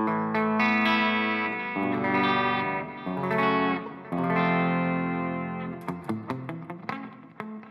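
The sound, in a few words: electric guitar neck pickup played with reverb and delay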